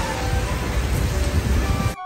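Steady rain hisses over a Shibuya street in Japan, a dense, even wash of falling water that cuts off abruptly near the end.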